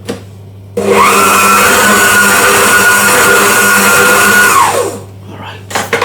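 Stand mixer fitted with a dough hook working through cake batter with flour, a steady loud whirring drone that starts abruptly, holds for about four seconds, then winds down and stops.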